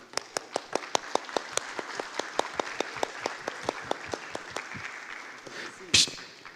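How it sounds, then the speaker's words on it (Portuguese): A church congregation claps in a steady rhythmic beat, close and fairly even, with a voice rising under the clapping near the end. "Dá uma salva de palmas para o Reginaldo."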